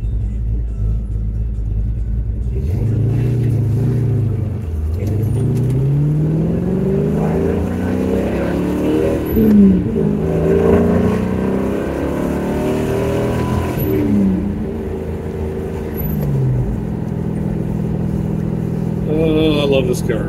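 A car engine rumbles and revs up through several accelerations, its pitch rising and falling as the car drives, with someone talking over much of it.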